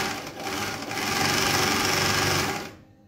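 Straight-stitch sewing machine running in one steady, close, loud burst of about three seconds before stopping abruptly.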